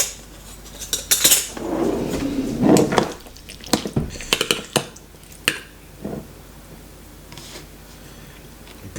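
A spoon clinks and scrapes against dishes and a jar while a herring and beetroot baguette is put together, giving scattered close taps and clatters, some louder, with quieter gaps between.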